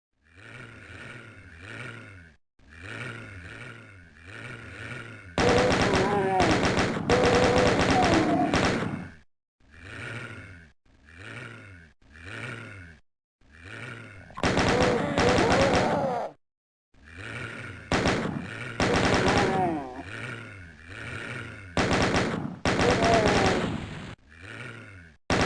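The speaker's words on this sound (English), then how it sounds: "A bit twitchy with the old chain gun." Rapid chaingun bursts from the classic Ultimate Doom shooter, loud and dense, coming in several separate volleys of a few seconds each, with monster roars and growls between and around them.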